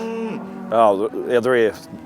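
Angus cows on hill country mooing: a low, drawn-out moo followed by two louder, rising bellows close by, with no talk over them.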